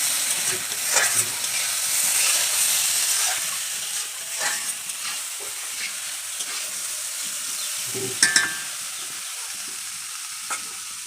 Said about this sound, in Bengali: এখন এগুলিকে ভালো করে নেড়ে নেব হলুদের গুঁড়ো আর লবণটা মেশিয়ে নেব